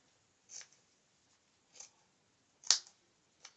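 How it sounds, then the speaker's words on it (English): Scissors snipping through elastic band for sewing dancewear, a few quiet separate crisp clicks spaced apart, one sharper cut near the end, close and without talk. "Let me cut this in half"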